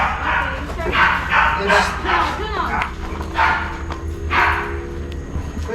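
Labradors barking and yipping excitedly in a yard at a home in Minalabac, Camarines Sur, Philippines, with several loud, close bursts mixed with whimpers under steady background voices and people chatting.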